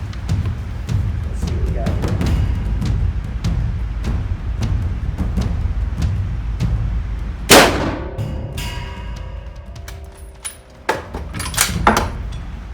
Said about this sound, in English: the next shot's with the Argentine Mauser